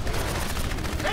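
Rapid gunfire rattles in the video game Crysis, a burst of automatic shots in quick succession, moderately loud and dense, briefly overlapping a voice.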